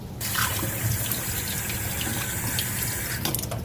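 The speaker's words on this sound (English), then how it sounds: "I'm going to rinse this out before I bring it out" Tap water runs steadily for several seconds, rinsing out an emptied can of corned beef in a kitchen sink, a continuous close splashing rush with no talk.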